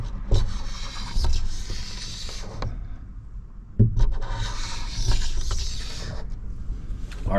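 Glue being scraped off the side window of a truck camper, a close, steady rasping and rubbing in repeated strokes with a brief pause midway and a sharp knock near the middle.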